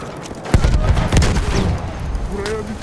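Gunfire from a machine gun position in Battlefield 1 crackles in a few loud bursts around the first seconds, then settles under battlefield rumble while voices talk over it.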